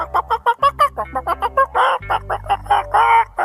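A voice imitates a hen's clucking, a quick run of short, choppy clucks followed by a few longer, drawn-out squawks.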